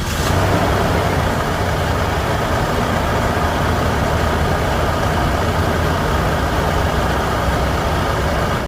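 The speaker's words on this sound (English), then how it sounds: "let me just start the engine so you can hear it" The 3.4-liter V6 gas engine of a 1997 Toyota Land Cruiser Prado runs with a loud, steady, close rumble that holds evenly from start to finish, with no voices.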